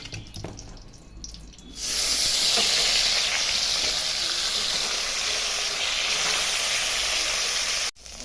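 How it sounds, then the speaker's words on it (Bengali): A fish head and tail drop into hot oil and start a loud, steady sizzle after a quieter opening, frying continuously at close range with no talk before a brief break near the end. "এখন মাথা আর লেজাটা ভেজে নিচ্ছি।"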